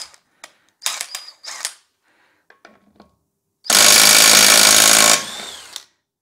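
Makita impact wrench set at 140 running on a car wheel lug bolt, one sustained loud hammering burst of about a second and a half, with a few clicks and handling knocks before it.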